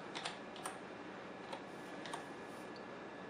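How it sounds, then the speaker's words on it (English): Soft, sparse keystrokes on a computer keyboard sound in a quiet room as a few scattered taps under low background hiss, with no voices. "I'll type it out."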